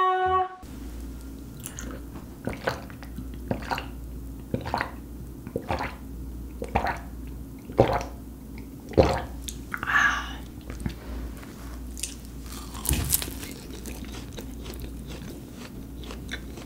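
Crispy donuts, original and one other flavour, are eaten up close, with a soft crunching bite and repeated squishy chewing at a steady pace over a low background hum, and no talking.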